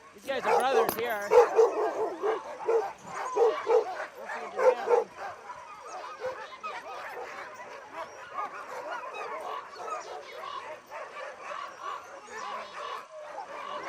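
Sled dogs, brothers in a training team, bark, yip and whimper in an excited chorus, dense at first and then thinning, with someone narrating over them.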